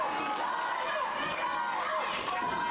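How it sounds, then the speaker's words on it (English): Packed arena crowd at a cage fighting event, a steady roar of cheering and shouting heard from within the audience, continuous and fairly even throughout. "And you can hear this crowd,"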